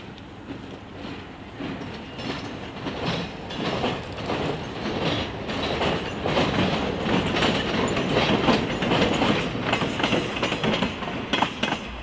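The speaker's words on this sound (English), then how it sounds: "Here the train got permission to cross the diamond at Control Point GB" A freight train led by an MLW ALCO C424 locomotive rolls past close by near Buffalo, crossing a rail diamond, a steady rumble with rhythmic clickety-clack of wheels over rail joints, building slightly louder toward the end.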